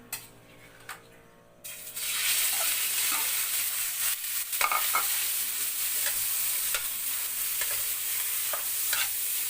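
Ground meat sautéing in a pan for a home-cooked dinner, a steady loud sizzle that starts after a short quiet opening, with scraping stirs and small pops through the rest.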